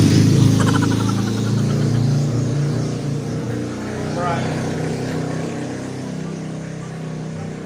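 A motor tricycle's engine drones loud and close, swelling briefly as it passes, with a steady rumble throughout.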